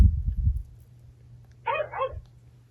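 A short electronic bark-like yelp from a Chongker Percy interactive robot dog toy, two quick bursts, clear and close, after a brief low rumble of handling noise.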